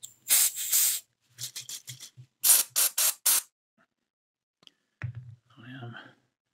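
Several short hissing bursts of cleaner sprayed onto a vintage paperback cover in quick clusters, close and sharp, followed by a brief spoken remark.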